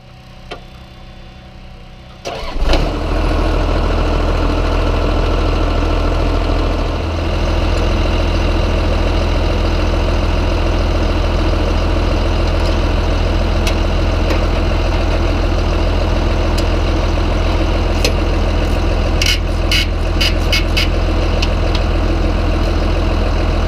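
A Caterpillar bulldozer engine starts up and settles into a steady, loud, low diesel idle close by. Faint clanks and rattles sound over the constant rumble.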